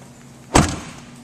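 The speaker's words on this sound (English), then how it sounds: "Bringing down the hood" A Chevrolet Equinox hood is brought down and shuts with a single solid thump, close by, whose low resonance fades quickly in an otherwise quiet setting.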